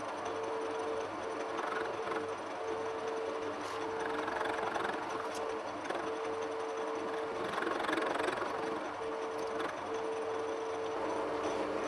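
A metal lathe turns a glass workpiece while a carbide tool grinds it, giving a steady, continuous mechanical drone with a constant whine and no talking.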